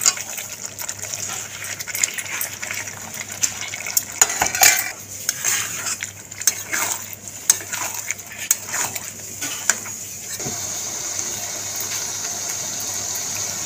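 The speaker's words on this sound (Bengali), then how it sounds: "আগে থেকে ভাজা আলুগুলোও দিয়ে দেবো গ্রেভির মধ্যে" A metal spoon clatters and scrapes against a pan as fried baby potatoes are stirred into gravy for aloo dum, steady irregular clinks and scrapes close by with no voices.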